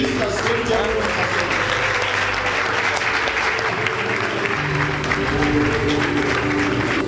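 A crowd applauds to welcome former footballer Pierre Womé back in Douala, a steady wash of clapping with a murmur of voices and tones underneath throughout.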